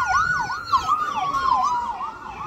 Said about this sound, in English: I got an ambulance coming.